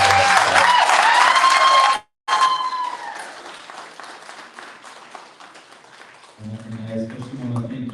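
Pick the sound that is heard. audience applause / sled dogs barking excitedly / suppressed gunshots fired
audience applause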